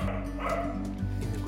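A dog barks and yips in short, loud bursts close by, with a steady low hum behind it, heard during work on replacing a car's door handle.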